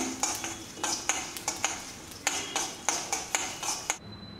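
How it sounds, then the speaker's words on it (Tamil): Repeated scraping and stirring strokes as spices dry-roast in a pan, about a dozen in a steady rhythm, close and fairly loud, with a faint dry sizzle underneath. "இப்போது எல்லாத்தையும் போட்டு வறுக்க போகிறேன்"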